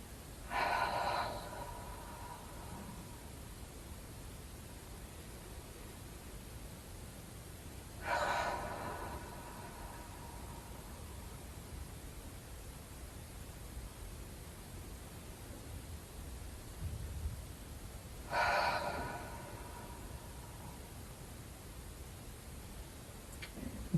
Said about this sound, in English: The ocean breathing, where we can feel a bit of a ha or whisper sound, both on the inhale and the exhale